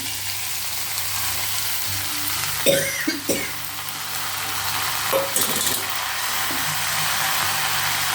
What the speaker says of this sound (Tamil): இப்போ இந்த மசாலாவை நம்ம அதில் கொட்டிட போகிறோம்.